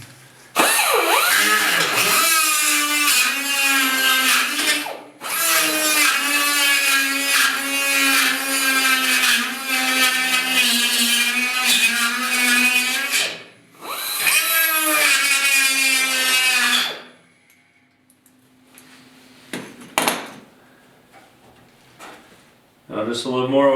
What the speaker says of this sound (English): just use my little die grinder and just take your time with it, and it'll make your little cut